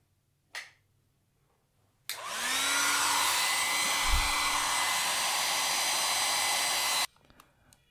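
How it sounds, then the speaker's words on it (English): Hair dryer blowing to heat mouse feet pads, switched on abruptly after a brief knock, then a loud steady whirring roar held for several seconds before cutting off. "the microphone is going to pick up all that noise that will be produced by the hairdryer"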